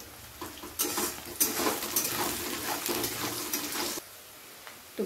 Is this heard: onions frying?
yes